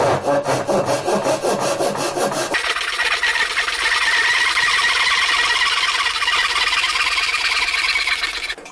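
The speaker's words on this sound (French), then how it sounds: "maintenant que je suis parti avec une scie à dos et qu'elle est partie droite" A back saw rasps steadily through wood held in a Rali Press vise, quick rhythmic strokes at first, then a continuous grinding scrape, loud and close.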